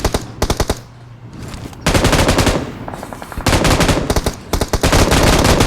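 Rapid bursts of automatic gunfire from an online duo shooter game, loud and close, coming in several long volleys separated by brief pauses.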